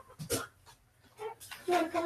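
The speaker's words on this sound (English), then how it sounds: "Yeah, that's what happens when you got French doors. You can't keep the dogs out." Dogs whimper and whine at French doors indoors, giving short, high, uneven cries in brief bursts over about two seconds, with faint voices around them.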